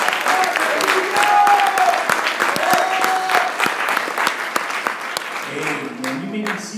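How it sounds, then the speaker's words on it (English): A church congregation applauds in a sustained, loud wash of hand claps, with cheering voices mixed in throughout before it thins out near the end. "give the Lord another big hand clap."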